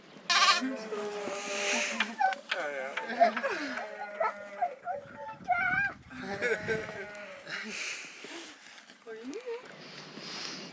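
Sheep bleating on a family-run farm in Turkey, several loud overlapping bleats from close by, some high and wavering, nearly continuous through the clip, with people talking.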